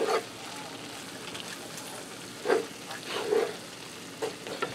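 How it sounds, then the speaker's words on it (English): Shredded cheddar cheese is stirred into mac and cheese frying in a pan, giving a soft sizzle under scattered scraping strokes from the spoon, with a few louder bursts late on. "So I'm going to give that a quick stir."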